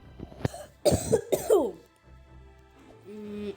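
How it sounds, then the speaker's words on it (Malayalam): A person coughs close by in a few sharp, harsh bursts, followed by a short pause and a brief vocal sound. "ഞാൻ ചിലപ്പോൾ ചുമക്കും ചിലപ്പോൾ ചുമക്കൂല"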